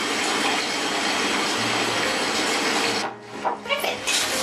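A quarter cup of vegetable oil is poured into brownie mix, making a continuous gushing pour for about three seconds, followed by a few quieter drips and splashes.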